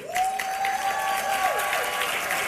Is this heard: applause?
yes